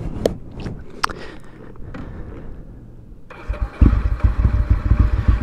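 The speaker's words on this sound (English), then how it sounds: "Just your regular V-twin engine." A Ducati Monster S2R 800 V-twin motorcycle engine fires up after a few clicks and rumbles into a low, uneven idle up close.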